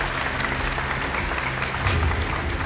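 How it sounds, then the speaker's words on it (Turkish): An audience at a Quran recitation competition applauds in a steady, moderately loud burst of clapping, with a brief swell of louder claps near the end. "Bir kez daha kendilerini alkışlıyoruz, tebrik ediyoruz"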